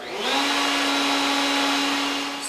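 Router spinning at 16,000 RPM as its bit plunges into wood held on a picture-frame jig against a fence and stop block: a loud, steady high whine that sustains evenly throughout with no voices.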